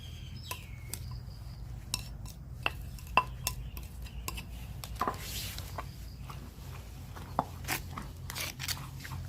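Pounded noni fruit is being mixed with tamarind, lime, sugar and fish sauce, giving scattered sharp clinks and scrapes of a utensil against a bowl or mortar over a low, quiet background.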